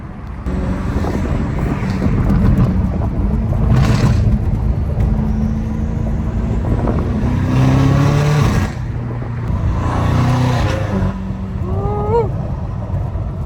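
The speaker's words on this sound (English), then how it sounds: "I love the turbos on this thing, bro." Straight-piped BMW M5 Competition with turbos, driving along an Arizona road, its loud engine droning steadily with rising pulls and a bit of wind buffeting, with whistling turbo chirps near the end.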